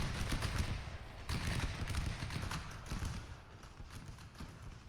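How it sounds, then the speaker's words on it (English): Massed musket volleys from Napoleon Total War with an American Civil War mod, a dense crackle of overlapping shots rolling in irregular bursts, loud and continuous. "There's bullets flying everywhere."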